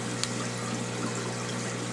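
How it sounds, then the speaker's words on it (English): Water flowing steadily through a channel in a barrack-style aquarium filtration system, a constant close trickling rush with a low pump-like hum and no talk. "Water comes in to a 2-inch channel."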